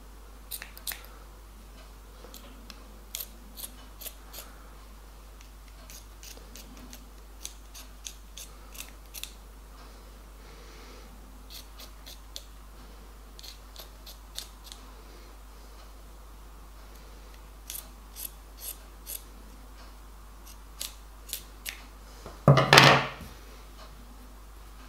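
Scissors snip through a T-shirt in a run of sharp, close, irregular clicks and cuts, fairly quiet against a still room, with a louder rustle of fabric handling near the end.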